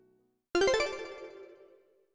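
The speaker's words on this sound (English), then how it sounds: "please answer the phone" A phone ringtone begins suddenly after a brief near-silence, a bright melodic chime of several quick notes that rings out loudly and slowly fades.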